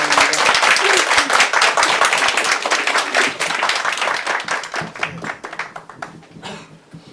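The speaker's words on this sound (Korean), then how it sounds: "자, 교수님 우리 큰 박수로" An audience applauds to welcome a professor giving a lecture on the March 1st Movement and the Korean church: loud, dense clapping from many people in a hall that gradually thins and fades out toward the end.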